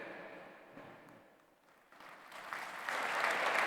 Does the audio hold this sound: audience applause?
yes